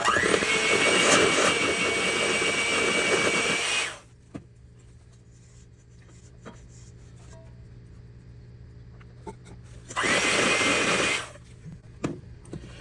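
An electric mixer whirs loudly while blending pecan pie filling with salt, running steadily for about four seconds, stopping, then a second shorter burst, with quiet clinks and handling noises between.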